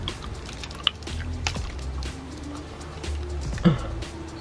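Someone chews a soft zombie chews candy up close, producing a run of soft, irregular mouth sounds with a few sharper clicks over a low background hum.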